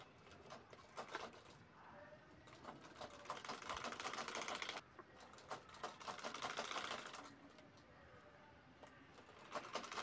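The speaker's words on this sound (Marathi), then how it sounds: "त्यानंतर साईड शिलाई करून घ्यायची आहे दोन्ही बाजूला." A sewing machine stitches the side seams of a handbag, giving fast rattling runs of stitching that stop and restart in several bursts, with a quiet voice now and then.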